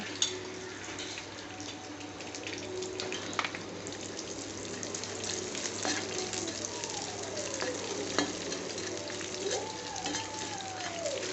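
Dried red chilies, mustard seeds and cumin sizzle and crackle steadily in hot oil in a home kitchen, a continuous close, moderately loud fry with scattered pops throughout.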